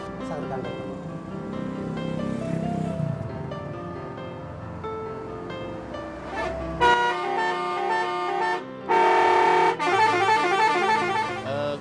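An Indonesian telolet bus horn plays a melodic sequence of tooting notes, loud and close, with changing tunes over a low engine hum.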